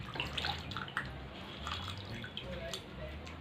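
Cassava slices being washed in a bowl of water, light sloshing and dripping splashes in uneven bursts, close and soft, with no talking.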